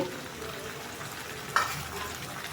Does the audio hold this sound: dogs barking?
no